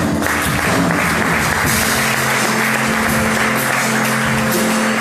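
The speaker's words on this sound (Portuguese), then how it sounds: "Você pode liberar um aplauso ao Senhor?" Church congregation applauding during a worship service, steady broadband clapping from a crowd filling the room for about five seconds, with a sustained musical tone underneath.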